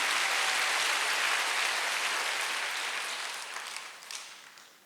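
Church congregation clapping together during a Sunday worship sermon, a dense continuous burst of applause that gradually thins and fades toward the end.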